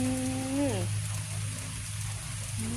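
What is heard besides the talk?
rain falling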